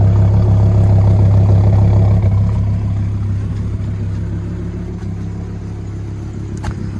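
Car engine idling at the exhaust pipe, a steady low rumble recorded up close, slightly easing in level partway through with no talk.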